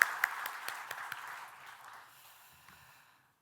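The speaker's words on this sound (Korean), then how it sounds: "우리 하나님께 다시 한번 영광의 박수로" Church congregation applause offered in praise to God, a scattered set of claps that starts with a few sharp, distinct hits and quickly thins out, fading to silence within about three seconds in a quiet hall.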